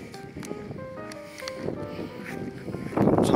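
Strong wind buffets an outdoor microphone at a scenic spot among trees, a steady rushing roar that swells louder toward the end, with faint tonal sounds underneath.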